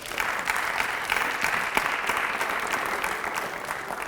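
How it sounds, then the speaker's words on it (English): A quick, steady round of applause from a gathered crowd at a high school signing day ceremony, dense clapping with a few louder hits and little speech. "Give one more quick round of applause."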